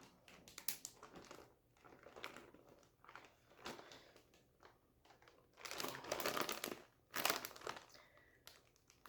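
A plastic zip bag holding raw chicken crinkles and crackles loudly up close as it is sealed and squished, in irregular bursts of rustling with short pauses between, no talk.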